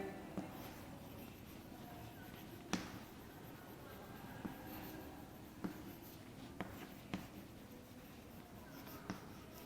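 An answer to a third-grade multiplication problem is written out by hand in a maths lesson: a faint, steady scratching of writing with a few sharp taps scattered through it, and no talking.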